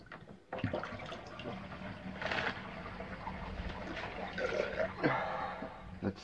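Water running and splashing as a shaving bowl is rinsed out, with uneven bursts of flow and trickling that rise and fall, at moderate closeness.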